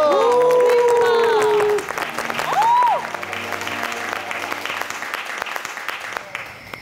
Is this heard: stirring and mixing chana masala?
no